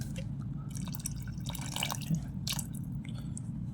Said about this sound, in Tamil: கொஞ்சம் தண்ணி ஊற்றிக்கலாம் இன்னும் கொஞ்சம் ஊற்றிக்கிறோம்